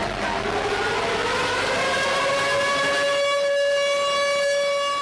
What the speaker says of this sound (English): sirens wailed, signaling the start of today's nationwide simultaneous earthquake drill